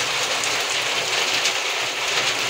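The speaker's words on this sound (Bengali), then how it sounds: "মুষলধারে বৃষ্টি কাকে বলে সেটা হচ্ছে।" Heavy monsoon downpour, steady and dense hiss of rain on surfaces seen from a window, continuous and loud throughout with no voices.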